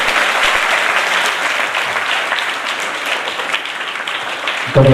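Sustained applause from an audience filling an assembly hall during an Ayurveda katha event, dense and steady throughout, with a louder thump at the very end.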